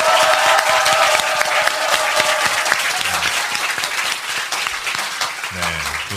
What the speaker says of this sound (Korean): 힘찬 박수와 함께 시작하겠습니다